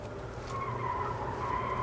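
A Jeep Renegade 1.4 MultiAir2 Limited drives hard through a corner and its front tires skid and squeal under load, a sustained screech over the engine's drone that strengthens slightly toward the end.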